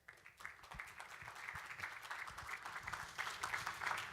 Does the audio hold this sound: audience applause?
yes